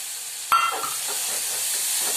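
Broad beans dropped into hot oil in a home kitchen, a sharp onset followed by a steady close hiss of sizzling that carries on alone without talk.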